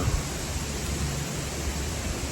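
Steady, roaring January wind outdoors in Wisconsin buffets the microphone, a dense broadband rush with low rumbling gusts, loud and unbroken with no voices.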